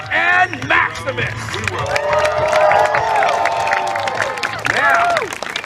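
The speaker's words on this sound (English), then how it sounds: "ladies and gentlemen, again, a nice round of applause for the team of Nathan Clausen and Maximus" A crowd at a live show claps and cheers loudly, with shouts and whoops rising over steady applause and a voice talking over the noise.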